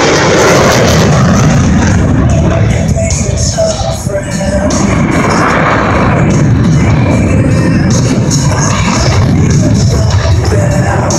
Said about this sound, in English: watch as the aircraft enters from the left, rolls into a 90 degree angle of bank, and demonstrates the Super Hornet minimum radius turn